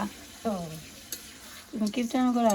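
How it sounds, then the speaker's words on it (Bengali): Meat being stir-fried in a pan for a big village meal, giving a steady close sizzle and stirring noise while voices talk over it at several points. "তো এখন মাংসটা সুন্দর করে কষে নিতে হবে"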